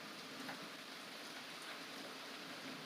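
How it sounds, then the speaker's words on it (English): Heavy storm rain pours steadily outdoors, a dense, continuous wash of drops hitting surfaces with no pauses, moderately loud and close. "It's storming like a motherfucker outside right now."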